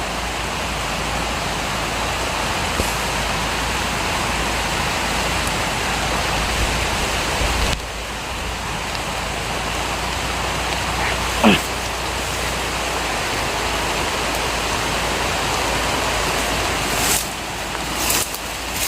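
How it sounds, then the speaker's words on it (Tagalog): Heavy rain pours steadily as a dense, unbroken wash of noise, loud and close throughout, with a brief sharper spatter midway and a few louder bursts near the end; no one speaks. "Malakas ang ulan mga idol."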